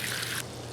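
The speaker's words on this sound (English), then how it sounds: "And I can just wash my hand right here." Water trickles from a tap in a garden bed while a hand is rinsed under it, a steady close splashing flow that suddenly thins to a softer, quieter dribble partway through.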